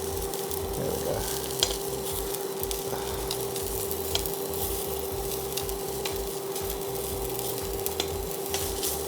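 Food sizzling steadily in a hot pan in a pub-style kitchen, with occasional scraping and clacking as pieces are stirred and flipped, plus a constant tonal hum in the background.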